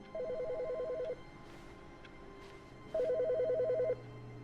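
Two electronic bursts of telephone ringing, each a rapid warbling trill lasting about a second, separated by a short pause, heard alone against a quiet room background.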